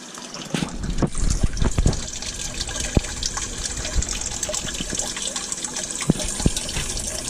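Water flows and splashes steadily through an aquarium sump filtration system under the tanks, a continuous close rushing with scattered drips and knocks, with no talking.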